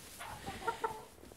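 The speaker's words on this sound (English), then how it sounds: "This is a Black Rock chicken." A Black Rock chicken on a school farm gives a few soft clucks, two brief distinct calls close together amid faint outdoor background noise.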